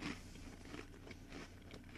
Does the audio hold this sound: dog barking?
no